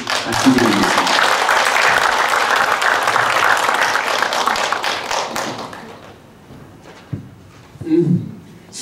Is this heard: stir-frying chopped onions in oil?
no